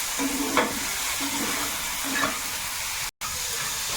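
River crab fries with salt and spices in a pan, giving a constant close sizzle with a few soft stirring scrapes.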